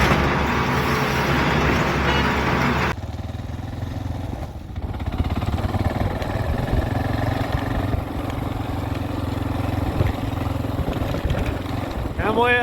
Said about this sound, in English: Let me show you a video of this road via my motorcycle